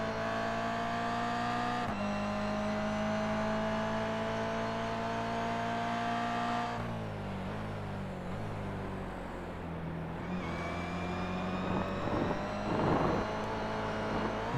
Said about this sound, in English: You could hear the revs build up there as the car hopped sideways over the curb